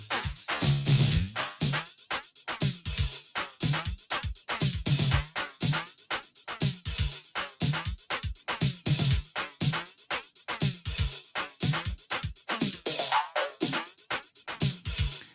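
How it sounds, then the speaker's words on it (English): Dense rhythmic music with a sweeping, whooshing flanger effect from the Atomizer audio splicer app on an iPad running through it, steady and loud throughout. "Now you can hear the flanger still on in the background."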